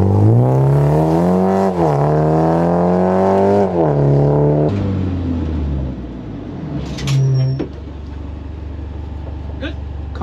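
A race car engine roars and revs loudly on an airfield, its pitch climbing and dropping through gear changes before settling into a lower rumble, with voices briefly audible.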